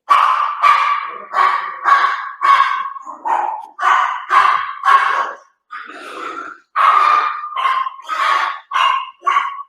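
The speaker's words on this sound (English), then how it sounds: "It doesn't stop barking." A dog barks nonstop in a loud, close, rhythmic series of about fifteen sharp barks with short gaps between them.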